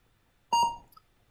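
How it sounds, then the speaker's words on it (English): A short electronic beep from a Mockingboard sound card in the 1987 Apple II game Father's Day: one bright harmonic tone lasting about a third of a second, then a faint blip. "so that's Mockingboard sound"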